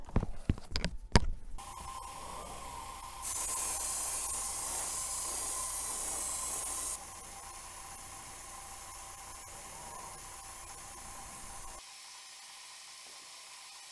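An aerosol can sprays paint onto a Hot Wheels Toreno Stocker model car in bursts of steady hiss, one louder sustained burst in the middle, with faint clicks and handling at the start.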